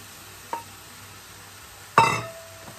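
Spinach drops into a hot pan with Indomie noodles: a small tap first, then a loud burst of sizzling that flares suddenly and fades over a second or so, close and alone.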